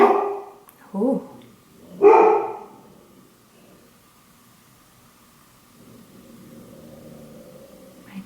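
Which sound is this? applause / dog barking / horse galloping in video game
dog barking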